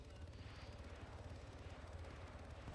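A helicopter in a video game gives a steady, low rotor drone that stays constant and fairly quiet throughout, with no voices over it.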